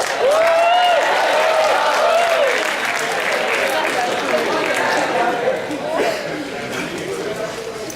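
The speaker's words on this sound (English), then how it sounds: "Yeah, clap to him." Applause from an audience, loud at first and gradually thinning, with crowd noise and voices mixed in throughout.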